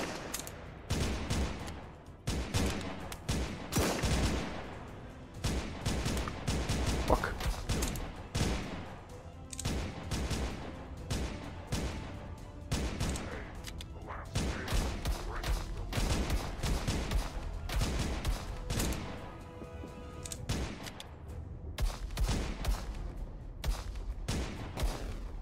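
Gunfire in the PSVR2 virtual reality game Cactus Cowboy: Plants at War, set in a World War II-style battle: dense, continuous bursts of shots and rapid automatic fire, loud and unbroken for the whole stretch.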